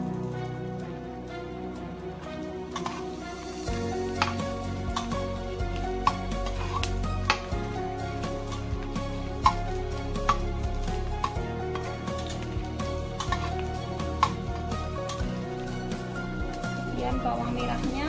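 Dried shrimp stir-fried in a pan for fried rice, heard as repeated spatula clacks and scrapes against the pan over a low, soft sizzle, with a person talking throughout.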